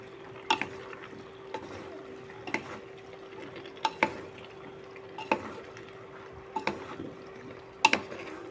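A Goan pork and beef stew is stirred in a pot, with a spoon knocking the rim in an even rhythm about once a second over a low steady hum and gentle bubbling.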